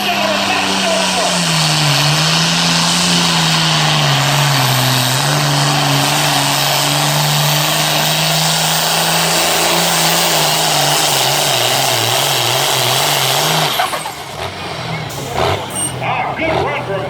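A light limited turbo tractor roars loud and sustained during a pull run at Libertytown, Maryland, its engine pitch sagging and rising with load before it backs off near the end, while a commentator talks over it.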